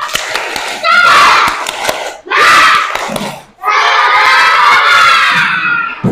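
Schoolchildren performing a tepuk semangat chant in a maths class, loud group shouting voices in three bursts with claps mixed in, close and energetic.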